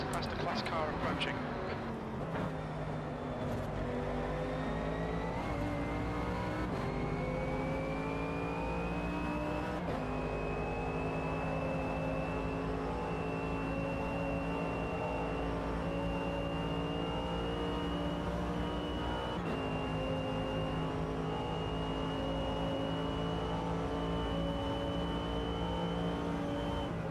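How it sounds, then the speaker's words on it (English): A faster-class race car closes in on a circuit in the AMS 2 racing game, its engine whine climbing steadily in pitch and staying loud throughout, with someone talking over it. "It's a faster class car approaching."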